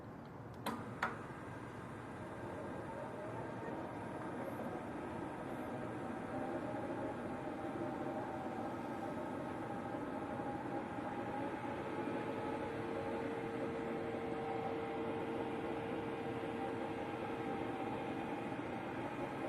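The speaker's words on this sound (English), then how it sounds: "the machine will start to self-testing power on again to do the auto processing, then go back to 0 position" A DTF printer powering on and running its motion self-test, giving a couple of clicks at the start and then a steady low mechanical hum with a faint tone, quiet and without talk.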